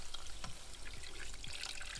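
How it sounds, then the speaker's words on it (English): Water, four cups of it, pours into a flour mixture while making tortas de atún, a steady soft trickle and splash with faint wet sloshing throughout. "then you want to go ahead and add your 4 cups of water in here and then mix again"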